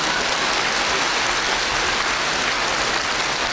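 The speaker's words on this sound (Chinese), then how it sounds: "鼓掌。" Steady, dense applause from an audience at a Buddhist gathering in Penang, Malaysia, a continuous broadband patter filling the whole stretch with no voices on top.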